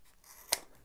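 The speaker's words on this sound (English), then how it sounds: "definitely good use of the good scissors" A single quick snip of scissors, one short crisp cut standing out sharply against a quiet, faint background.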